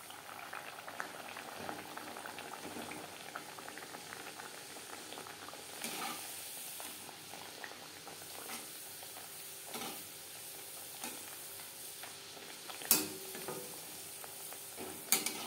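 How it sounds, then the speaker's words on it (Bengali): Pea-stuffed kachori fry in hot refined oil in a wok over a medium flame, giving a steady, soft bubbling sizzle with a few sharp clinks near the end. "কচুরি ভাজবার জন্য কড়াইতে বেশ খানিকটা রিফাইন্ড অয়েল গরম করে নিয়েছি। তেল আমি হাই ফ্লেমে গরম করে নিয়েছি। কচুরি ভাজবো মিডিয়াম ফ্লেমে।"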